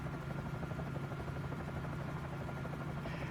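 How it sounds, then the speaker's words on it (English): A Bell 47 J-2 helicopter in Microsoft Flight Simulator lifts off, its engine and rotor giving a steady low droning hum with a faint rhythmic beat, constant and unbroken throughout. "let me go ahead and pick the helicopter up and we can start taxiing out to the runway"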